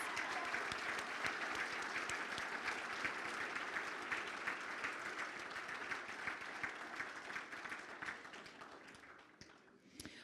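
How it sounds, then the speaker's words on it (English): Audience at a fire division awards banquet gives a sustained round of applause, steady dense clapping from a crowd heard at moderate distance, tapering slightly toward the end. "Let's give them a round of applause."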